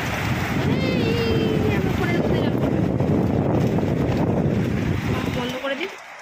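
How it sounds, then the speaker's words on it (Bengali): Stormy wind roars and gusts loudly and steadily against the microphone during a storm, buffeting hard throughout before easing suddenly at the very end. "এমন ঝোড়ো হাওয়া দিচ্ছে"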